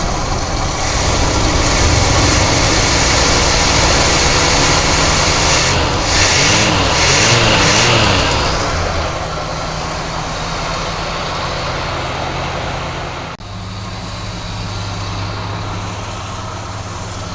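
A small engine fresh from a broken manifold bolt fix and choke coil repair runs steadily while warming up, a loud continuous idle with a brief revving swell early on and a slightly lower, even drone afterward.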